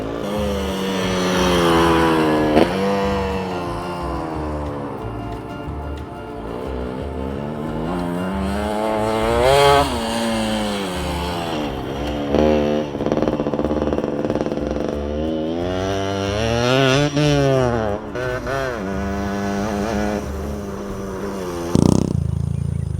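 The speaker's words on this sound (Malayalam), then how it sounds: "2 സ്ട്രോക്ക് ഓടിക്കാൻ ഒരവസരം കിട്ടിയിരിക്കുകയാണ്" A two-stroke dirt bike ridden on a dirt practice track, its engine revving hard and rising and falling in pitch through repeated throttle bursts and shifts, loud and close throughout.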